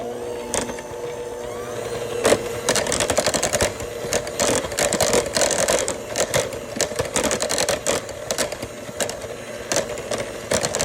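An electric mixer whirs through mashed potatoes seasoned with pepper, a loud close motor buzz that surges and stutters in rapid bursts as the beaters work, with no talk.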